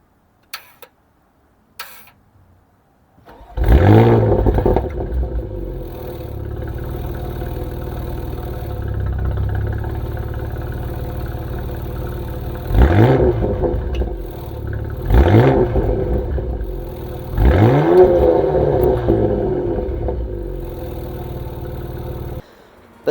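A 2022 Porsche Macan S starts with a sharp bark, settles into a steady idle, then is blipped in three rising revs that swell and fall back to idle, loud and close with no talking.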